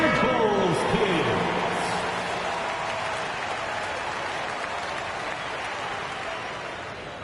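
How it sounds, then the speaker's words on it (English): Arena crowd applauding a Bulls youth team at a basketball game, steady broad clapping and cheering that swells at first and then holds at a constant roar, with a voice over the arena speakers early on. "Please give a big round of applause for your Bulls Youth team"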